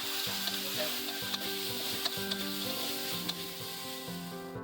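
Tempeh frying in a pan with olive oil and sweet soya sauce, a soft steady sizzle broken by repeated scraping stirs of a utensil at a gentle rhythm, fairly quiet and close.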